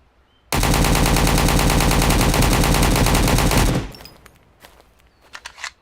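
A weapon in the survival shooter Road to Vostok fires a loud, sustained automatic spray of rapid shots for about three seconds, followed by faint clinks and a few scattered footstep-like sounds.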